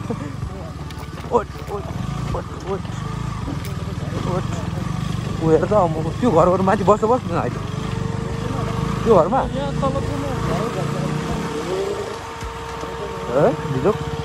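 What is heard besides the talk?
motorcycle riding over a rocky riverbed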